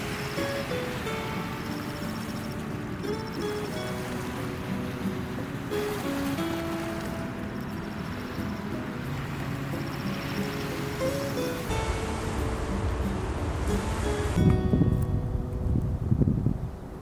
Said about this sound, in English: The water, calm just a mile away, was quite turbulent here